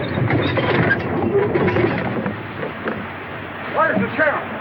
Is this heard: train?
yes